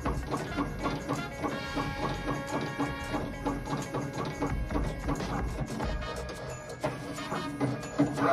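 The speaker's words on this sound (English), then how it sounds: "So the printing is completed." An Uninet iColor 250 inkjet label printer printing a label hums with a steady mechanical whir and fast repeating ticks from the moving print head, running continuously at moderate volume.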